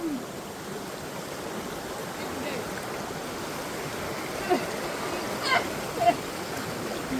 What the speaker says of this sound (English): Second water crossing of the video.